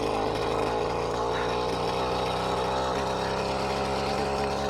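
A cheap little two-stroke engine mounted on a bicycle runs continuously, a loud buzzing drone with rapid raspy pulsing, close by and steady, no talk.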